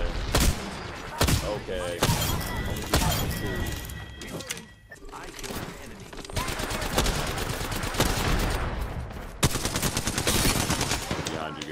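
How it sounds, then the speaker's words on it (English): Enemies shoot in a video game with rapid bursts of gunfire, loud and repeated sharp cracks and automatic volleys filling the whole stretch. A player talks briefly over the shooting. "Yeah, they're shooting at me."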